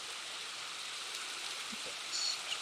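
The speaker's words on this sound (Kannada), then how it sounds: "ಮಳೆ ಬೇರೆ ಬರ್ತಾ ಇದೆ" Rain falls in the video game Minecraft as a steady, soft hiss of drops, even and continuous, with a couple of faint thuds and a brief high tone near the end.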